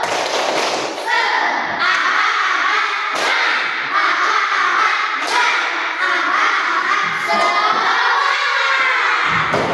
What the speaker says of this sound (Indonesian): kita tepuk semangat dulu yuk sebelum belajar